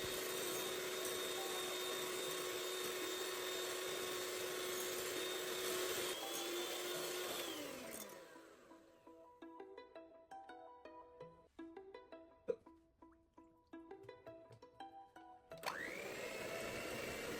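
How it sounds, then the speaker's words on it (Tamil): An electric mixer whirs steadily as it beats egg whites to stiff peaks, then cuts off, leaving a few clinks of utensils and music before the motor starts up again. "வெள்ளைக்கருவும் நல்லா ஸ்டிஃப் பீக் வர அளவுக்கு நல்லா பீட் பண்ணி எடுத்துக்கோங்க"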